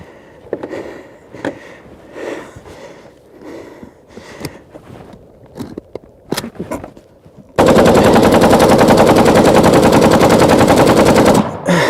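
AK-47 rifle firing on an endurance test: scattered single shots and short bursts, then a long, loud, unbroken stream of full-automatic fire that runs for about four seconds before stopping abruptly.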